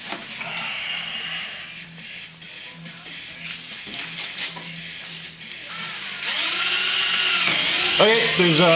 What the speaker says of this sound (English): We got 2 rivets that we drilled out.